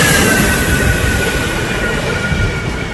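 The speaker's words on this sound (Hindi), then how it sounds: "एक एक कर 5 राफेल फाइटर गगनभेदी आवाज के साथ अंबाला एयरबेस पर लैंड कर गए।" Rafale fighter jets landing one after another at Ambala airbase produce a loud, continuous roar with a thin high whine running through it, steady and overwhelming throughout.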